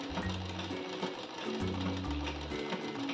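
A sewing machine stitches a pillow cover in quick bursts, a low mechanical whirring hum that starts and stops about three times, with rhythmic needle clatter, fairly quiet and with no talking.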